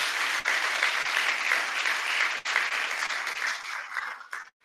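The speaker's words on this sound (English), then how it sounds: "join me in a round of applause with these individuals." Sustained applause from an audience at a firefighter class graduation ceremony, many hands clapping steadily and fairly loudly before tapering off and stopping near the end.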